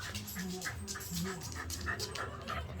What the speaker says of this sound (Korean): 또 짖는다.